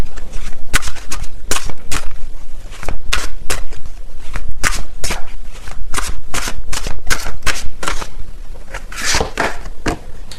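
Tarot cards shuffled briskly by hand, a steady run of sharp riffling snaps and slaps close to the mic with no talk over them.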